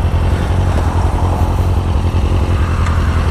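A motorcycle engine runs steadily and close by, a loud continuous low rumble with a faint clattery edge, heard alone with no talking.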